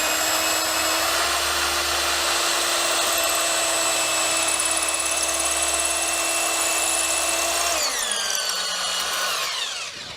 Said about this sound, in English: And then I drill.